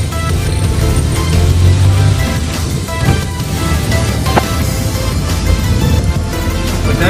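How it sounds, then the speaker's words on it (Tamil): A car cruising in third gear gives a steady, loud, broadband interior rumble of engine and road noise that holds even and continuous throughout, with no talk over it. "இப்போ தேர்ட் கியரில் போயிட்டுருக்கோம்."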